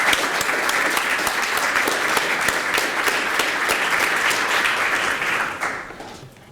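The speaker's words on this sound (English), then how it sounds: "So let's give him a round of applause." A conference crowd at a Ruby programming event gives a speaker sustained applause, a dense even wash of clapping that fades out in the final second.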